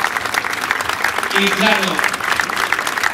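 A crowd claps steadily throughout at a religious pilgrimage festival in Chamán, with a Spanish-speaking voice briefly speaking over the applause.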